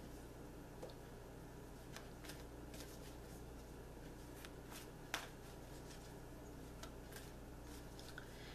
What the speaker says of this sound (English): the next set of cards I'm going to use are the Angel Tarot cards, and I'm going to shuffle them